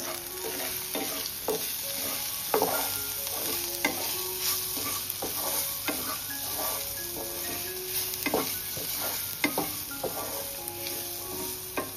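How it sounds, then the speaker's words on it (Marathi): Garam masala, coriander powder and salt sizzle in a pan while a spoon stirs them with frequent clinking scrapes, a continuous close frying hiss running underneath and no one talking. "चला आता सर्व मिक्स करून घेऊ"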